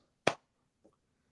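A single sharp slap, like a curveball smacking into a catcher's mitt, imitated close up and alone, followed by a faint soft tap.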